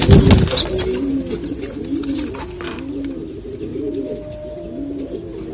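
A young black male Gola pigeon coos in repeated low, throaty rolls, close by and steady throughout, with a brief rustle at the start.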